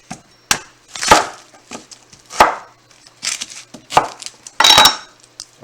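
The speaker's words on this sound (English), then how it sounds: "I'm going to cut that onion up." An onion cut with a knife on a board, a handful of sharp separate chops and knocks at an uneven pace, close and fairly loud with no talk.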